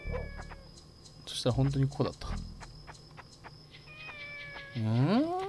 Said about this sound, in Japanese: あの猫の鳴き声だ。近いぞ。